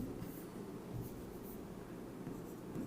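Chalk or marker scratching across a classroom board as a teacher writes, steady faint strokes over a low room hum for a few seconds, no voice present.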